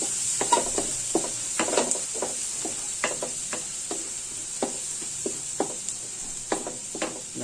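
Garlic sizzles and crackles in a pan over high heat, with a steady hiss under irregular stirring scrapes and clinks.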